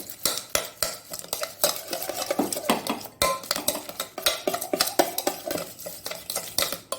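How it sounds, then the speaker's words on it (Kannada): Puffed rice churumuri is mixed with onion and tomato in a bowl, producing a rapid, continuous rustle with metal spoon scrapes and clinks that stay close and fairly loud throughout, with no talking. "ಇನ್ನು ನೀರುಳ್ಳಿ, ಟೊಮ್ಯಾಟೊ ಹಾಕಿ ಚೆನ್ನಾಗಿ ತಿರುಗಿಸ್ಕೊಳ್ಳಿ."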